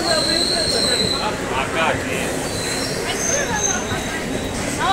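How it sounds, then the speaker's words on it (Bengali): A train at a crowded station platform, its wheels squealing in repeated high metallic screeches over a steady heavy rumble of railcars, with the murmur of people in the background. "তো চলো ট্রেনে উঠে নিই,"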